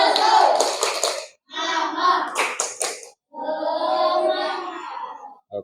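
Elementary schoolchildren in a classroom clap out a rhythmic cheer in several quick bursts separated by short pauses, with their voices chanting along loudly and close.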